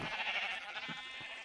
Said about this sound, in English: all of the coloured sheep in here